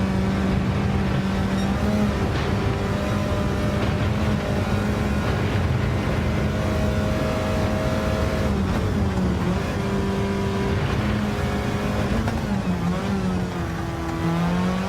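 A Mini's engine in Gran Turismo 7 drones loud and constant, its pitch rising and falling through gear changes and throttle lifts, with no talking.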